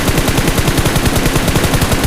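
Rapid automatic gunfire from the PUBG mobile video game rattles nonstop at close range, a loud, dense stream of shots with no pauses.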